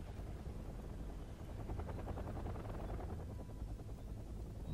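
AH-1 Cobra attack helicopter in Wargame: European Escalation, a steady rotor drone and engine whine holding at even loudness throughout, with a faint rhythmic blade chop mid-clip and no talk.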